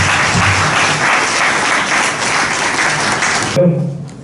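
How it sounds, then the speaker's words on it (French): Loud crowd applause at an award ceremony for civil society organisations in Benin, sustained clapping from many people that stops abruptly near the end, leaving a brief moment of voices and room noise. "Applaudissez pour tous ceux qui sont."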